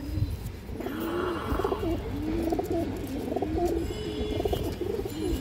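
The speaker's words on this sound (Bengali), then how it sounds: "পাথর চোখের কবুতর, এই যে দেখেন দর্শক পুরানো ব্লাডের কবুতর" Old-bloodline pigeons with pearl eyes and black tails coo in a continuous, rolling series of close, throaty calls.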